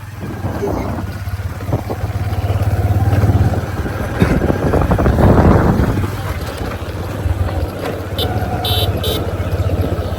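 A motorcycle rides through Lacharipara, a village in Ramgarh, Khagrachari, its steady engine drone running close and continuous, with wind buffeting the microphone and a rise in loudness midway as it passes along the road.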